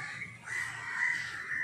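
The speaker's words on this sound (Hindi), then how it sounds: "इधर सारे कौवे हैं।" Several crows caw steadily and fairly loudly in a city setting, their harsh calls overlapping without pause and with no talking.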